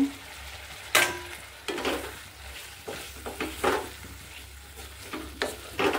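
Sliced bitter gourd frying with hilsa fish head in spiced oil, bursts of sizzling and scraping stir strokes recurring every second or so over a low hum, close by and without talk.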